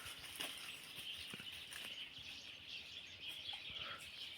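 Parrots and other birds calling from a tree in sunny countryside, scattered high chirps and squawks at moderate distance over a soft outdoor background, with no talking.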